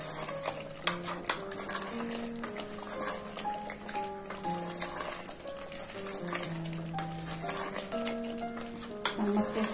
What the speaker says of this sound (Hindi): अब इसमें हम हरा मसाला डालेंगे, कोतमीर पुदीना में, एक नींबू का जूस है निकाल, इसको अच्छा भून लेंगे।